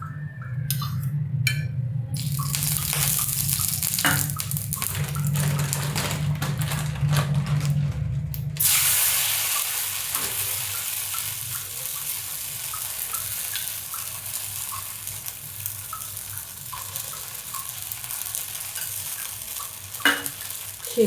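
Sabudana thalipeeth fries in a pan with a steady, close sizzle, broken early by clattering, scraping and running water, then a long even hiss with occasional soft pops.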